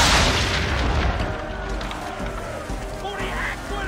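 Powder barrels explode during a naval battle in Assassin's Creed 3, giving loud deep booms with rumbling blasts that sustain throughout the short stretch.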